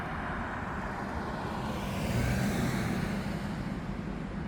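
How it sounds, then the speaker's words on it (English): A low, rumbling car engine with a modified exhaust drones steadily at a distance, swelling slightly louder midway as it passes by. "Somebody with a modified exhaust."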